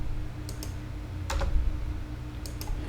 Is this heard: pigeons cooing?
no